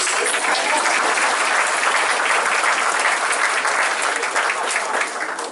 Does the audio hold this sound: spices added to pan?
no